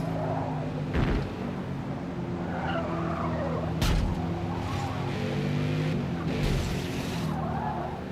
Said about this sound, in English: Why is applying a little bit of brake suddenly make me slide off the track?